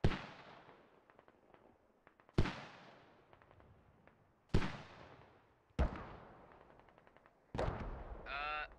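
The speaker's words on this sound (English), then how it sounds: "Enemy mortars inbound." Enemy mortar rounds exploding in the military shooter game Squad: five sharp, booming impacts spaced a couple of seconds apart, each decaying into rumble and crackle, the last followed by a ringing, whining tone.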